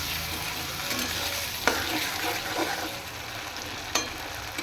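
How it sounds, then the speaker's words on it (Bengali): Spice paste for a Bengali fish curry with drumstick stalks sizzles steadily in a pan, with a few sharp scrapes of the spoon as it is stirred, close up and with no talking. "আর এইখানে আমি মশলাটা কষছি।"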